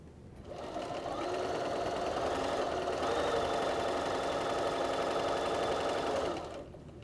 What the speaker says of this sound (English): We're going to start by placing our square on top of our fabric, lining up those edges, and just sewing right down.